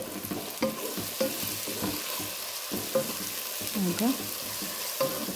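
Onion and tomato masala sizzles in a pan for chicken masala while a spoon scrapes and stirs it in a steady rhythm of distinct strokes, close and fairly loud, with one brief spoken word.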